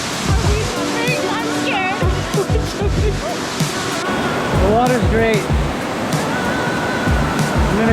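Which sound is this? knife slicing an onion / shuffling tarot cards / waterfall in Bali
waterfall in Bali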